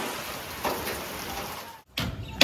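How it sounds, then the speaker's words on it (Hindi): Heavy rain falls at an outdoor solar panel installation site, a dense hiss of broadband noise that briefly drops out and then returns, with a sharper spatter at the end. "बहुत तेज़ बारिश हो रही है।"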